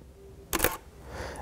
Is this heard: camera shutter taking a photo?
yes